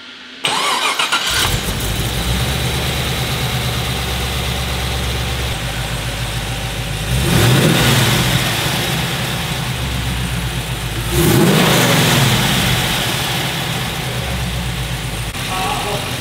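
LS3 V8 engine fitted in a Range Rover Classic starts and settles into a deep, loud idle, with two rising revs around the middle and the end, and people talking faintly under the engine.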